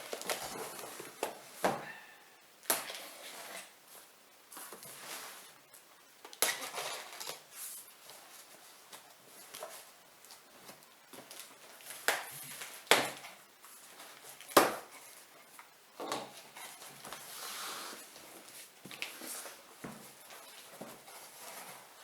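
A Swiss Army knife slices open a substantial cardboard box holding a Woods Walker titanium stove, giving scattered faint scrapes, rustles and sharp thumps at an uneven pace, close by and with no talking.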